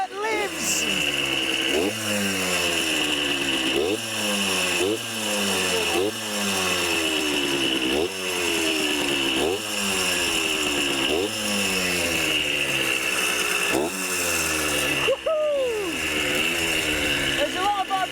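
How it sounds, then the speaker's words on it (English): A little 100cc two-stroke dirt bike engine revs up and down repeatedly, loud and close, with buzzing, vibrating rises and falls, while a voice talks over it. "There's a lot of vibrations for a little 100cc two-stroke."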